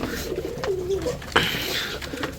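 A pigeon coos softly nearby, a short throaty call with a rising note, over a low background hum.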